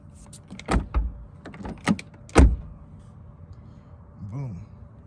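A 2020 Nissan Altima SR car door shuts with a few solid thumps and clunks, nearby and fairly loud, followed by a brief whirring sweep.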